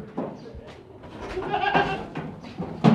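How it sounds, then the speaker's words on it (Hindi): A small castrated goat kept for Eid sacrifice bleats a few times at a livestock sale, the wavering calls mixed with nearby voices and background chatter. "ये बकरा चेक करें भाई"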